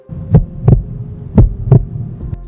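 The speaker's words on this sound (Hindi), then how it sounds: "तो आप अपनी हार्ट बीट को भी सुन सकते हैं।" Heartbeat sound effect with two paired lub-dub thumps, loud and close over a low hum, followed by a brief faint click at the end.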